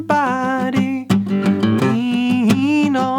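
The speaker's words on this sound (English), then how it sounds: "taking a look at a more advanced version of this, featuring some percussive strums" Acoustic guitar chords of a song with sharp percussive strums that snap out at steady intervals, accompanied by a singing voice, all close and loud.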